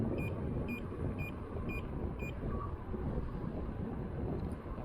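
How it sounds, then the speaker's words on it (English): Five short, evenly spaced speed warning beeps from a Sherman S electric unicycle ring out over heavy, rumbling wind noise while riding, then stop while the wind buffeting continues. "Oh, I'm getting the beeps. That's how fast I'm going."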